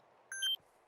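VoiceAttack for Arma 3 gives a short electronic beep, a clean two-tone chirp lasting about a quarter second in an otherwise quiet clip.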